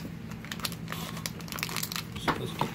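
The foil wrapper of a 2018 Topps Inception baseball card pack crinkles and crackles steadily as it is pulled open, close up and fairly quiet, with a few sharper tearing snaps near the end and no one speaking.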